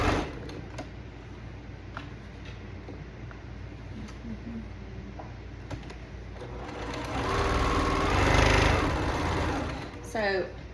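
A sewing machine stitches a log cabin quilt block with a steady motor hum that grows louder and busier near the end, close by, while a person talks over it.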